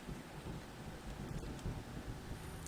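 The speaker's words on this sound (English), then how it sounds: "It sounded like it was going to start raining again." Steady rain and low rumbling thunder ambience in the video game Home, a continuous moderately faint wash of noise with wind-like texture and no voices.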